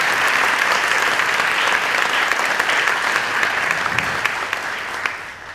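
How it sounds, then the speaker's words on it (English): An audience at a school board meeting breaks into a round of applause, dense and even clapping that holds steady throughout and eases off slightly at the very end. "So if we could just give them a round of applause to thank them."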